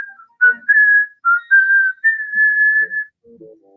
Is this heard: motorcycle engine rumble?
no